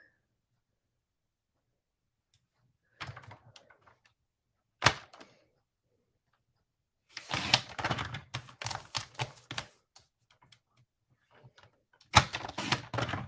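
White cardstock being cut to size on a paper trimmer during card making, with a few short clicks, a sharp snap, then bursts of rapid chopping and sliding blade strokes, close and with no talk.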